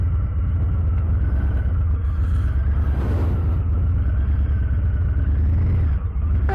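A Harley-Davidson Low Rider ST motorcycle making a slow U-turn, its engine a steady close low rumble throughout that shifts slightly near the end.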